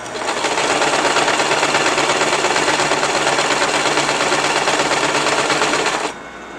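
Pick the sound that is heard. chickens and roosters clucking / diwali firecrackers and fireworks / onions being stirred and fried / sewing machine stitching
sewing machine stitching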